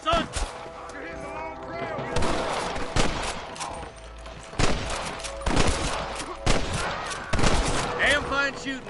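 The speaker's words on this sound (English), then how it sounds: "Damn fine shooting, boys" A Red Dead Redemption shootout crackles with scattered gunshots, sharp reports popping in irregular clusters, some near and some farther off, with shouted voices mixed in between the shots.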